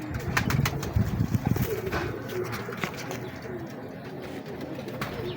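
Pigeons in a breeder's loft coo close by, including a bird about 14 to 15 years old, with repeated throaty, rhythmic calls, busier at first and then softer, alongside light chirps and rustling.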